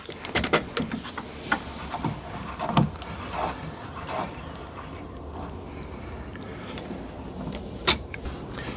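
Intermittent ratcheting clicks and short mechanical whirs as a SpeTool router lift is cranked down, close and fairly quiet, with brief pauses between bursts of handling.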